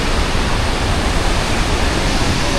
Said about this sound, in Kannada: ಸಖತ್ತಾಗಿ ಬೀಳ್ತೈತೆ ಮತ್ತೆ ನೀರು